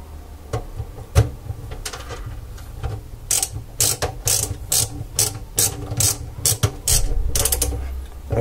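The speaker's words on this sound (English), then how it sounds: "I'm gonna stick one screw in just to make my life a little bit easier" A screwdriver drives a screw into the hard drive mounting of a CCTV DVR, producing a close, uneven run of sharp ratcheting clicks that grow denser toward the end.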